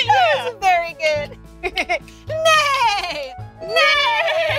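A child imitates a horse's neigh with wavering, bleating vocal whinnies in several bursts, set against a steady background hum and some mechanical noise.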